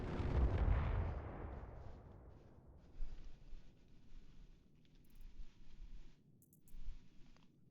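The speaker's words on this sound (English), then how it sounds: "It shoots all 3 missiles" Missiles launch and explode in the space game Star Citizen during a bunker mission: a loud booming blast opens, then a rumbling decay, followed by further muffled thuds and booms with faint high electronic chirps.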